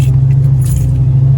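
Car keys for a 1990 Ford Mustang GT jangle briefly in a metallic rattle over a loud, steady low hum.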